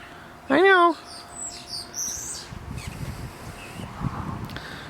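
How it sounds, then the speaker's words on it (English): A robin gives one loud, close squawk, then a few fainter chirps follow over rustling outdoor background noise in an overgrown backyard garden. "We have robins back here. I don't know if it's them that's squawking at me."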